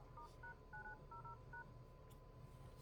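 A Samsung Galaxy A32 5G phone plays a quiet run of short two-tone DTMF keypad beeps in an uneven rhythm while a dialer code is entered, ending with a brief click.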